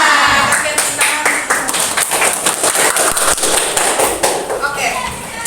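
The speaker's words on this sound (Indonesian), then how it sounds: "Oke, tepuk tangan" A primary-school class claps hands together during a religious studies lesson, a dense, loud patter of many small hands filling the room with brief sharper bursts.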